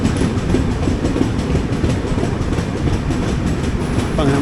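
The Humsafar Express pulls into Kasaragod station with a steady, loud rumble of wheels on rails, heard from on board with a faint rhythmic clatter.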